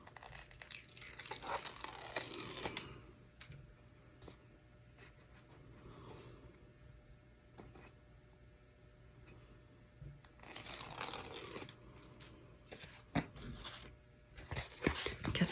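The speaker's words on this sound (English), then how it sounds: "I need to peel the tape off the back now." Paper tape backing is peeled and handled while assembling a tri-fold junk journal, with bursts of close tearing and crinkling separated by quieter pauses, no talking.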